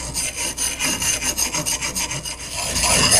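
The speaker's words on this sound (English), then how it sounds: "All right, now Joe's getting a burr on the one side" A knife blade is rubbed back and forth along a sharpening stone to raise a burr, a loud, close rasping scrape repeating in a steady stroke rhythm with no talking.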